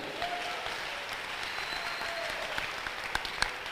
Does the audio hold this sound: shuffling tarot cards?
no